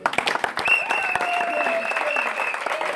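A crowd applauds at a gathering in Lodja, a dense patter of clapping that runs steadily for a few seconds. A sustained tone hangs over the clapping, and a few sharper claps stand out at the start.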